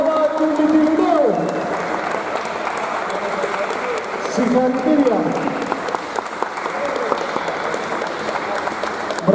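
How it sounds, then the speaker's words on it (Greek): A crowd at the Elite League Major basketball final applauds champions Mytilinaios with sustained, dense clapping, while an announcer speaks loudly over it on a PA. "Ένα δυνατό χειροκρότημα στην καθαραδίτρια στην Elite Major League, η ομάδα του Μητυλιναίου."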